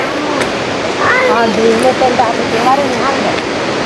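A waterfall in Sri Lanka with reduced flow in the dry season, giving a constant broad rush of falling water close by, as a voice talks over it throughout.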